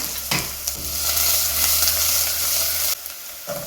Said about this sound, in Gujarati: ઓનિયન, ગાજર, કેપ્સિકમ, ટામેટાં આ બધું મિક્સ કરી લઈશ આવી રીતે થોડી વાર